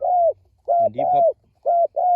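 A spotted dove with a small voice coos in a repeated, hollow, mid-pitched pattern, clear and close, with short pauses between phrases and one richer, layered coo in the middle.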